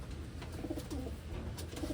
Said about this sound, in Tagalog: Big size ito mga kalapatids ha.